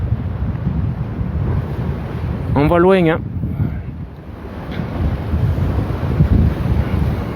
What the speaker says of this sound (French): il y a du vent, donc ça tape, ça bouge, il y a des vagues